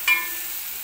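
Tomatoes fry in a pan, a short clatter of stirring followed by a steady, gentle sizzle close by.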